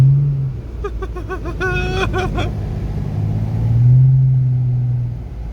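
A Lexus IS300 idles on a frozen road with a low, steady engine rumble that briefly revs up and falls back, heard close and loud.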